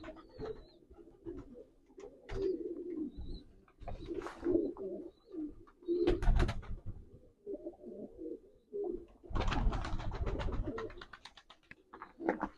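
Kara mamba pigeons coo repeatedly in an enclosed breeding loft, several birds calling close by in soft overlapping bursts, with wing flutters and rustling between the calls.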